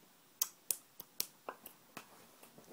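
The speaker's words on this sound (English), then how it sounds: "snap my fingers" Finger snapping in a quiet bedroom: about ten sharp, crisp snaps in an uneven rhythm over roughly two seconds, close and alone, fading slightly toward the end.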